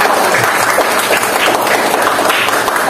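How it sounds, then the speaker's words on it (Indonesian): Pupils clap together in a classroom after a quiz, producing loud, dense and even applause that fills the room from start to finish. "Tepuk tangan untuk kalian semua."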